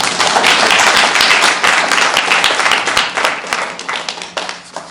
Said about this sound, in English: A round of applause for Mindy, folks.